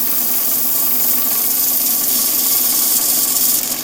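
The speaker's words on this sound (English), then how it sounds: "A little bit more sanding here, and I can move on." Steady hissing whir of a Grex sander with a spinning wheel smoothing a wood turning on a lathe, continuous and close, loud and unbroken for several seconds with no talk.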